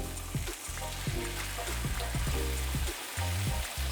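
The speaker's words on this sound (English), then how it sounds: "We want to get a little bit of color on each side of the pork." Pork slices for shogayaki, Japanese ginger pork, fry in a pan with a constant close sizzle. Soft bumps and stirring noises come and go on top of it, and no voice is heard.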